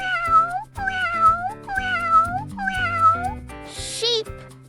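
Cat meowing four times in a steady rhythm, each meow clear and close, over a light musical backing, followed by a brief bright flourish near the end.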